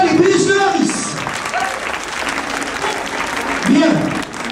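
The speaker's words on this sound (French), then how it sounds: "Je vous demande de les applaudir une dernière fois, les buses de Harris" Audience applause at a Christmas show at OK Corral in 2015, following a Harris's hawks demonstration: steady clapping throughout, loud and fairly near, with a voice talking over it at the start and again near the end.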